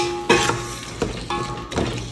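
Tomato, green chili and yogurt are stirred in a pan, with three rasping sweeps of a spoon over a soft sizzle, each stroke close and fairly loud.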